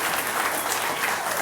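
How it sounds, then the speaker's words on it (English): A crowd at the NASDAQ applauds and cheers steadily, a dense continuous clapping wash throughout. "Jason, they're cheering you on here at the NASDAQ."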